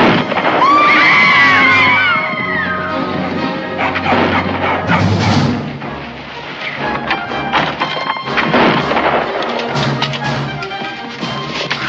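Gunfire and crashing in a frontier western fight scene, loud and chaotic bursts over shouting and a crowd, with people talking and yelling throughout.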